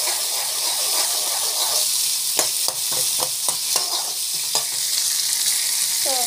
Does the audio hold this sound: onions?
yes